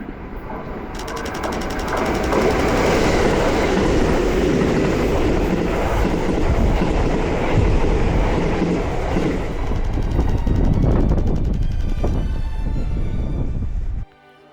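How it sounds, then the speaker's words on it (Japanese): Keio Line commuter trains passing near a trackside spot, a loud sustained rumble and wheel clatter swelling in and fading out before an abrupt cut. "京王線で近づいてくる電車と遠ざかっていく電車を連写して"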